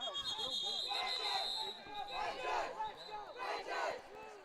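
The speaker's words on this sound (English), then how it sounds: "I hope y'all can hear our cadets cheering on their fellow cadets. Doing some chants and cheers down there." Cadets chanting and cheering in unison from the stands at a high school football game, a loud crowd of voices rising and falling in waves, with a steady high whistle-like tone running underneath.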